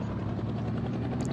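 A helicopter in the Indian Bike Driving 3D video game flies with a steady, loud rotor drone that holds evenly throughout, with no talk over it.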